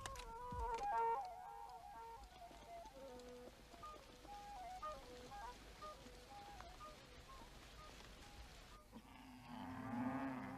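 Cattle low on broad African plains beneath a melodic musical score, their moos mixed into the music, with a louder call near the end.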